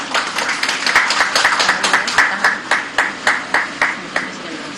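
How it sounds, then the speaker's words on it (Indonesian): Applause from a seated audience at an Indonesian state ceremony where the President witnesses the return of state losses, a dense, steady clapping that fades out in a few trailing claps near the end. "Boleh kita berikan tepuk tangan sekali lagi."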